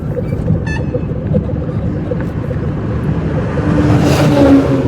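A car drives in second gear, its engine giving a steady, loud drone up close with a slight rise toward the end.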